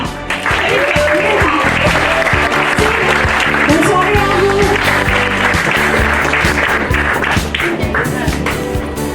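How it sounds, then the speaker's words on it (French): Sustained applause from an audience at the opening of a Miss and Mister beauty pageant, loud steady clapping filling the whole stretch while a presenter speaks over it. "Alors, on applaudit encore ces charmantes demoiselles, s'il vous plaît, mesdames et messieurs."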